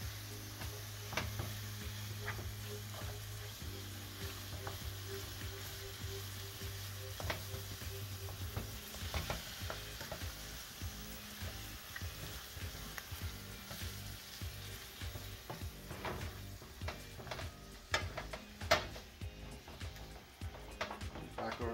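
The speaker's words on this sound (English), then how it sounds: "Keep mixing it in." Greasy food sizzling and frying steadily in a pan while being stirred, with irregular scraping and clicking from the utensil over a continuous crackling hiss, close up.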